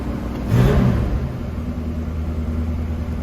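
A 1966 Ford Mustang convertible idles high just after a cold start, a steady close engine rumble that swells briefly near the start, then holds even.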